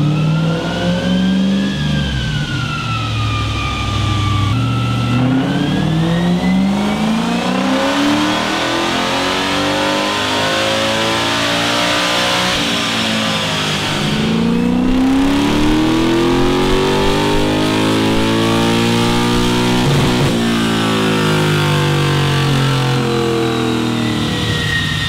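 A V8 drift truck engine revs hard on a dyno, loud and continuous, with repeated rising and falling sweeps through the RPM range and no talking over it.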